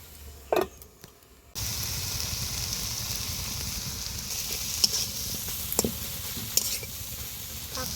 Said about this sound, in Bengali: অল্প একটু নাড়িয়ে ঢাকনা দিয়ে দিব